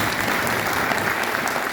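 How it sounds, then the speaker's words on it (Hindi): Loud, continuous audience clapping from a crowd at a networking seminar, a dense even wash of claps throughout with no speech over it. "अगर सभी सहमत तो ताली बजाओ।"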